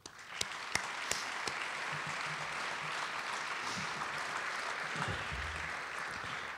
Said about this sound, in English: I'd love to give these guys a great round of applause.